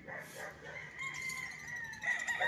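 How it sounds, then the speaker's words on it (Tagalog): Chickens cluck and crow faintly in short bursts on a farm lot, with background hiss and no talking. "madami siyang manok"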